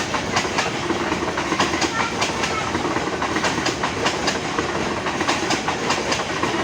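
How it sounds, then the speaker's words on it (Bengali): A passenger train pulls out of Joydebpur toward Mymensingh in Bangladesh in mid-afternoon, people riding on its roof, its wheels beating a steady clickety-clack over rail joints, loud and continuous. "জয়দেবপুর থেকে ট্রেনটি ছেড়ে যাচ্ছে ময়মনসিংহের উদ্দেশ্যে।"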